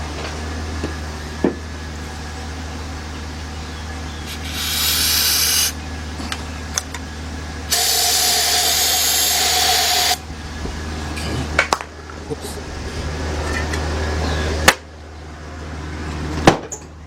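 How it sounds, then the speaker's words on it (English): Several bursts of aerosol spray hissing onto an Edelbrock double-pump carburetor on a 1977 Buick LeSabre 350 engine, one short and one longer and louder, over a steady low engine hum with occasional clicks and knocks. "spray a little bit more of it."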